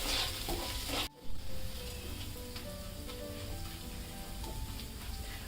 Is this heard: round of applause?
no